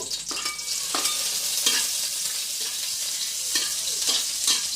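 Corned beef sizzles in a hot pan as a utensil scrapes and stirs it in repeated strokes, a steady frying crackle under the clinks, close and moderately loud with no talking.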